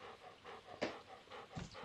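A dog in the Stardew Valley video game pants in short, quick, breathy bursts, close and fairly quiet, with no clear barking.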